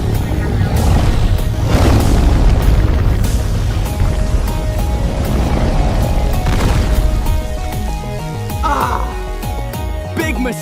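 A plasma overload explosion in an FPV drone game sets off loud, rumbling booms and crashes, with layered blasts and bursts of debris filling the whole span and a sharper burst near the end.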